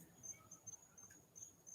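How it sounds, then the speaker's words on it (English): Crickets chirp steadily in a quiet night setting, a faint, continuous high trill repeating in short pulses throughout, with no voices. "I got these crickets here chirping away"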